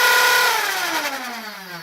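The flywheels of a modified Nerf Hyperfire/Rapidstrike blaster spin down after a trigger rev, a loud close electric whine whose pitch falls steadily over about two seconds.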